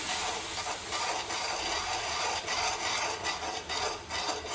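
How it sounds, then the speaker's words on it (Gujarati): Spoon scraping and stirring semolina sheera in a pan after hot milk is added, a steady rasping, rubbing sound repeating close up with no talking. "પછી આ રીતે એને હલાવી નાખવાનું."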